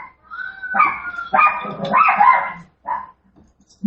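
A dog barks and yips in a few short, close bursts, then a brief final yap, loud and alone without talk.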